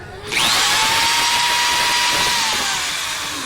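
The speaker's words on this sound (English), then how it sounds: "Wait until I'm holding it in the right position before you touch the drill trigger." A drill spins up abruptly after a brief quiet moment, then runs steadily and loud, its motor whine easing slightly toward the end.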